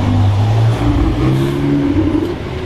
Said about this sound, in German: Oder fährt gerade ein 911 R vorbei.